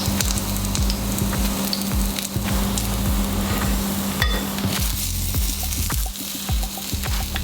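Yaki onigiri, Japanese grilled rice balls brushed with soy sauce, sizzle loudly and steadily on the heat, with occasional soft tapping and shifting sounds close by.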